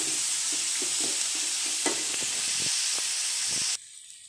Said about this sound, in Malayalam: വെല്ലുള്ളിയില്ലേ സവാള, അതൊന്ന് ഇങ്ങനെ ഇട്ട് ഇളക്കി കൊടുക്കും.